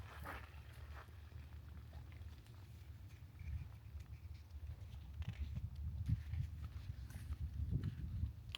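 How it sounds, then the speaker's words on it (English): Quiet shuffling and soft hoof-like thuds come from donkeys moving about nearby, over a low outdoor rumble. Faint patters and scuffs rise toward the end. "One of my donkeys had to go potty."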